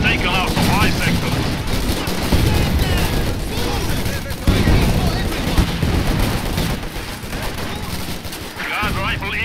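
Dense, continuous gunfire and machine-gun bursts with booming artillery in a Company of Heroes 2 World War II battle, loud and sustained throughout, with voices calling out over the combat.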